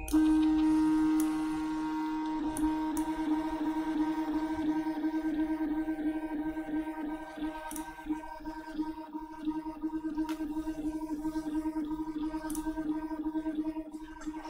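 A Prusa i3 Mk2s 3D printer running its preflight check, with a steady motor whine that begins as a smooth tone and then turns into a fluttering, stepping hum over faint clicks, close and continuous, no speech.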